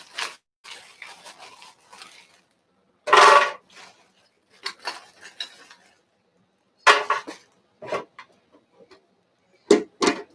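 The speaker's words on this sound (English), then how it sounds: "We're going to put about the same amount of ice." Ice cubes dropped into a blender beaker for a shakerato, several sharp clinking clatters in short bursts separated by quiet gaps, close and clear.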